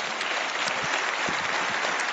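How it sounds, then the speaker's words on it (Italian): Studio audience applauding steadily and evenly throughout, a dense wash of clapping at full volume with no talk over it. "Grazie, applaudiamo Vittorio"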